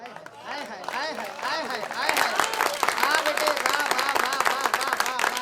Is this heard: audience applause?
yes